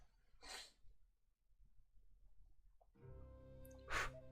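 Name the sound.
sneeze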